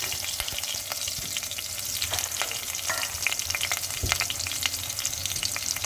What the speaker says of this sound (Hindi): जब ऑयल गर्म हो जाएगा तो हम उसमें अपनी प्याज जो हमने काट के रखी थी वो शामिल कर देंगे।